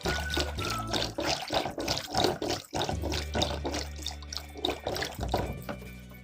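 Water poured into a gram flour and buttermilk mix for Andhra majjiga pulusu, a steady close splashing pour running for several seconds with a low hum underneath.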